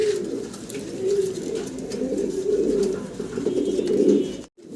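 Fancy pigeons in a cage coo almost nonstop in low, rolling, throaty murmurs close up, which cut off abruptly at the end.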